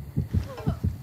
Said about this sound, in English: A second heartbeat